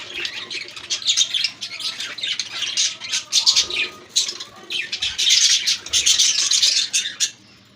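Caged Australian parrots squawk loudly and constantly, with harsh overlapping calls and chirps close by and no pause from start to finish.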